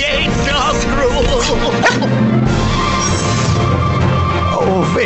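A dog in the Army Men: Sarge's Heroes PlayStation game barks and yips loudly and close up over game music, while voiced characters shout and talk over it.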